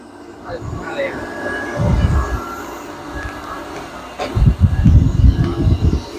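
A loud, steady mechanical rumble of a running irrigation water pump at a durian orchard with rhythmic low thumping, nearby, with people talking over it.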